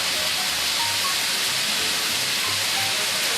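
Loud, dense sizzling hiss from fried rice in a hot pan, steady and continuous with faint crackles and pops scattered throughout.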